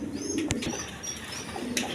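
A Lahori pigeon coos softly a few times at close range, short throaty calls over faint background hiss and light rustling.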